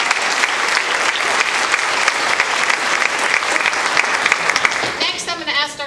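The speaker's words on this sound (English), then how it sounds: "So let's give them another round of applause." An audience at a school board meeting gives a round of applause, loud dense clapping for about five seconds before it thins out and a voice begins speaking.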